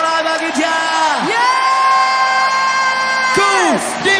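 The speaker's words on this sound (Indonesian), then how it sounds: "berikan sorak-sorai bagi Dia" Congregation at a worship concert cheering and shouting praise, a loud sustained crowd roar with whoops and yells, overlaid by long held tones like a horn or synth.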